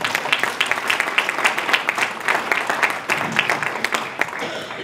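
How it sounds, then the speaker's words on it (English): An audience at an education event in Louisville, Kentucky breaks into loud, sustained applause, dense clapping that carries on for several seconds with a fluttering, uneven rhythm. "Give yourselves a round of applause."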